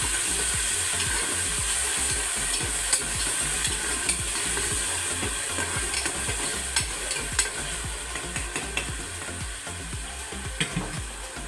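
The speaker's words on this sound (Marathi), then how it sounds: "आता टोमॅटो घालून हे व्यवस्थित परतून घ्यायचं आहे" Tomatoes sauté with reddish fried onion in a pan, a steady close sizzle broken by repeated scraping strokes of a spoon stirring, with no talking.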